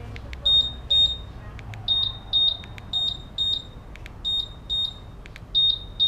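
High-pitched electronic alarm beeps from a Honda Click 150i 2019 motorcycle smart key remote, in quick pairs, repeating steadily at moderate volume over faint background hiss.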